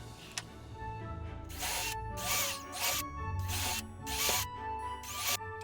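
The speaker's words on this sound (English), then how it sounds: "I drill a couple of starter holes so I can cut out my pattern without cutting the outside edge of my decoration." A power drill boring starter holes in a wooden Christmas ornament, with several bursts of whirring separated by short pauses, close and fairly loud.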